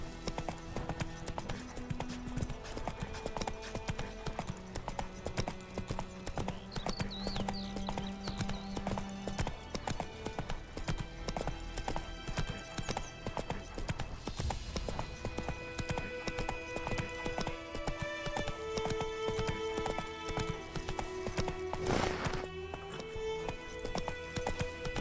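A horse's hooves clip-clop in a steady galloping rhythm within The Witcher video game, set against layered game music and ambience, continuous and moderately loud throughout.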